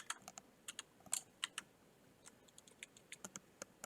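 Computer keyboard typing while writing Node.js backend code, quick irregular bursts of close crisp key clicks with short pauses between.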